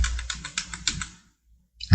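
About half a dozen quick arrow key taps on a computer keyboard, close and crisp, in a fast even rhythm that stops into near silence before a brief thump at the end.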